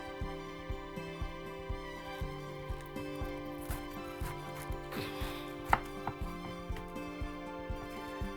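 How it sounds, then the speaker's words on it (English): A knife chops food on a cutting board in a steady, even rhythm of light, close knocks, with a low constant hum running underneath and no one speaking. "So I'm just gonna chop this up."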